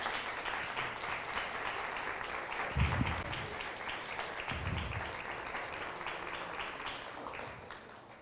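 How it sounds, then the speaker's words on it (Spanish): A church congregation applauding the Lord during a sermon by Pastor Joaquín Ortíz Jr., a continuous, fairly distant wash of many hands clapping with a couple of low thumps, holding steady before tapering slightly at the end. "Le doy un aplauso al Señor."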